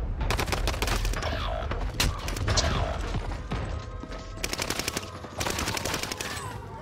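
Rapid bursts of automatic gunfire from a video game firefight, loud and dense, with repeated volleys and short gaps, while players' voices speak over the shooting.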